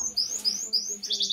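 Pet birds in an aviary chirp up close in quick, bright, high tweets, several short calls overlapping with no talking.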